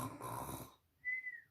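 A voice imitating the snoring of sleeping farm animals in a children's story: a rough, breathy inhale followed after a pause by a high, thin whistling exhale, close and clear.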